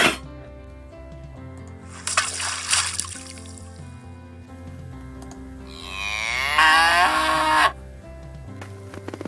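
Cattle lowing amid a playful mix of sounds: a loud moo stands out over splashing and rushing water, with tonal musical sweeps and thumps around it and no talk.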